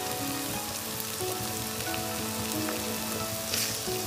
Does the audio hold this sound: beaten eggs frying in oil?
yes